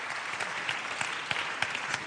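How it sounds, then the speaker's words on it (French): Audience applause at a national awards ceremony, a short burst of steady, moderately near clapping with a few sharper individual claps standing out. "On peut vous applaudir."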